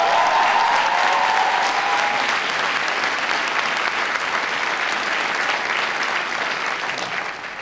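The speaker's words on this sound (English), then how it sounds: "Give James a big round of applause" An audience gives James a long, loud round of applause, a dense continuous wash of clapping that holds steady and fades slightly toward the close.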